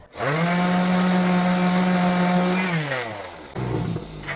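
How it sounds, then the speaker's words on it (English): A power sander smooths a glued gap on a wooden cutting board, giving a loud, steady motor whine that winds down after a few seconds and is followed by a brief rougher rumble. "And then just sand it."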